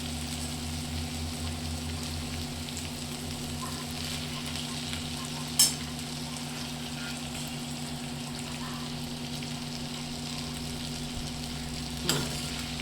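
Val bean pods (flat beans) cook in a pan with a steady, moderate frying hiss and low simmering hum, with a couple of brief clinks of a spoon stirring.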